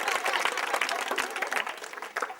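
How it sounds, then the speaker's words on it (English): A group of children clap in rhythm during a primary school dance lesson, a steady run of sharp claps with a few clear accents, fairly close, with light background chatter. "Give it a big clap."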